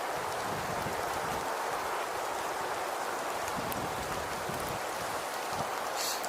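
Steady rain falls at a night campsite, a soft even hiss of drops on leaves and surfaces with faint scattered patters, fairly quiet and unbroken, no talking.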